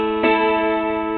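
A mountain dulcimer strums a single bright chord whose notes ring on and slowly fade, heard close and alone with no talking.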